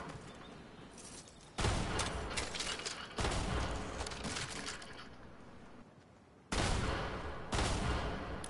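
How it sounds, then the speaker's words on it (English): Gunfire in Fortnite comes as dense bursts of rapid shots in several loud volleys separated by brief lulls, with a constant ambient hiss underneath. "Who is he up there shooting at, though?"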